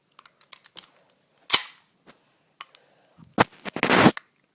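A KP-01 gun is fired in a handful of sharp, snappy shots spaced irregularly, with the last two coming close together, separated by small clicks and handling noises.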